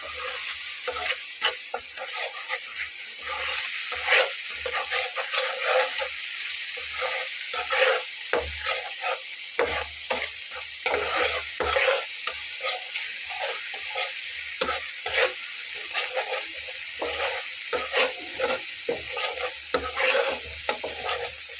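Ginger, garlic, cumin, coriander, salt and turmeric fry together in a pan for an eggplant dish, making a continuous close sizzle broken by frequent scraping stirs of a spoon against the pan. No one talks.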